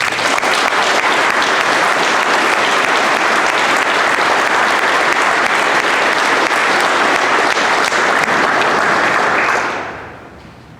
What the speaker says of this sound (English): I offer a round of applause as recognition of the instructor cadre's tireless efforts